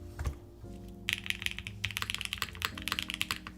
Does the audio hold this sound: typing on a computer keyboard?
yes